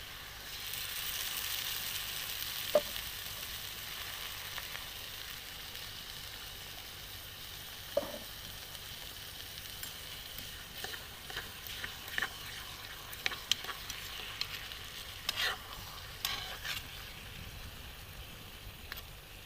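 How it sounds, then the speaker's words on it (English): Steady hiss of food with tomatoes sizzling in a frying pan at an outdoor overland camp kitchen, unevenly on one side, with occasional pops and clicks of utensils over a low background hum. "this is sizzling away on one side and not on the other"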